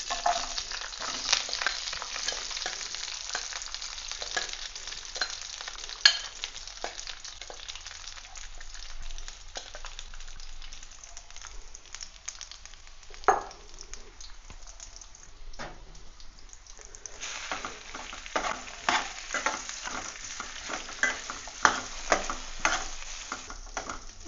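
Sliced potatoes fry and are stirred in a pan for a South Indian potato poriyal. A soft, continuous sizzle runs throughout, broken by repeated scraping and clinking of the spoon.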